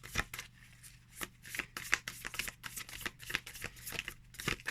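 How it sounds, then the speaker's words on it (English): Tarot cards from the Boo Tarot deck being overhand shuffled by hand, a steady run of soft, papery riffling slaps repeating in quick bursts, close up with no talking. "My thumb can grip the cards nicely, so I can overhand shuffle nicely."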